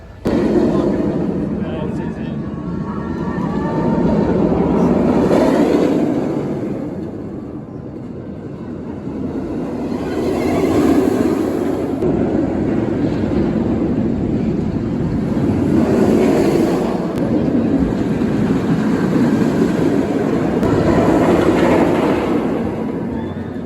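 Medusa, a B&M floorless roller coaster at Six Flags Great Adventure, produces a loud, steady roar that swells and fades repeatedly as the train thunders along the track, with voices mixed in.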